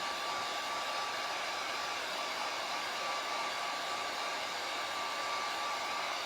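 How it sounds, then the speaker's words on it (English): A heat gun blows steadily to dry a coat of matte Midnight Sky paint on the hardware of a vintage wooden vanity table, a continuous close, loud whooshing hum with a faint whine that holds unchanged throughout, with no voices. "Shoot them with the heat gun."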